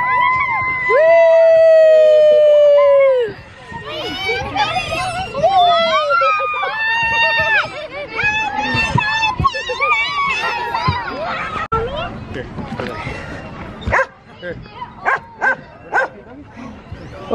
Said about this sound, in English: Oh, you see another doggy.